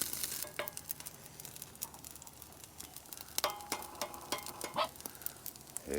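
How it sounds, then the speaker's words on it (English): Eggs scrambling in a camping pan sizzle continuously, with scraping stirs and utensil clicks scattered over the frying hiss; no one speaks. "I put them in the pan and scramble them as it's cooking."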